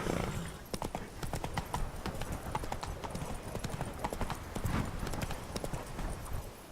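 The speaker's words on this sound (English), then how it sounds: "Whoa there, Roach" Horse hooves clip-clop steadily in The Witcher 3 video game, a brisk regular trot close up, with an occasional snort or whinny mixed in.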